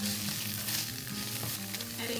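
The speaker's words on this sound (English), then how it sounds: "Adding the tofu into the pan." Tofu frying in a pan, a steady close sizzle with stirring and scraping throughout, no talking.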